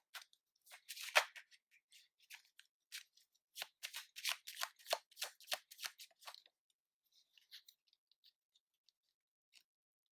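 Tarot cards being shuffled, with papery riffles and flicks in quick bursts, dense in the middle and tapering to sparse taps near the end. Close and fairly quiet, no talking.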